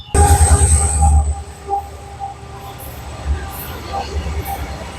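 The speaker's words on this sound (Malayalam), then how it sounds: "ഒരു ട്രെയിൻ വരുന്നുണ്ട്" A train rumbles and clanks near an arch bridge, loud at first then settling into a steady metallic rolling with a high squeal, as people talk nearby.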